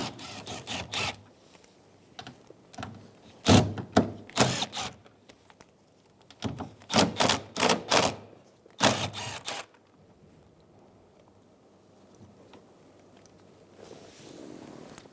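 A ratchet with a 10mm socket clicks in quick bursts while removing the side mirror nuts on a 2007–2011 Toyota Camry, close and fairly loud, with gaps between runs and a quiet stretch at the end.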